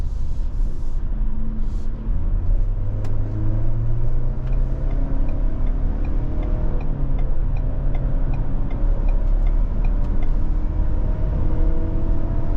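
A 2023 Ford Explorer XLT 4x4 accelerating onto a highway, heard as a steady engine and road drone from inside the cabin with the pitch rising through gear shifts, continuous and without talk.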